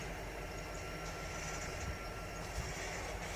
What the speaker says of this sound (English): I hear the diesel engines picking up the RPM.